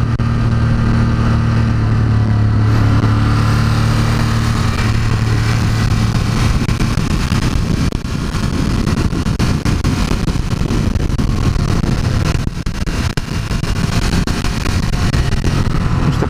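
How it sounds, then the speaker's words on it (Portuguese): A Ducati Monster 1200 S engine revs hard while riding, loud and continuous with a throaty roar and wind rush close to the rider, and no talking. "Gira pra caramba esse motor."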